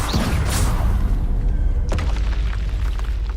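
A Confringo fire spell blast in Hogwarts Legacy, a deep booming impact with a rumbling whoosh, followed by a second sharp burst about halfway through, loud and close.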